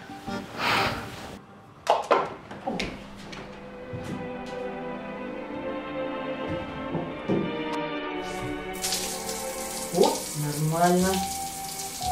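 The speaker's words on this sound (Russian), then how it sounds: "Кажется, она включила воду." A water tap runs into a bathtub, steady splashing and gurgling that grows brighter and louder toward the end, with scattered voices and movement over it.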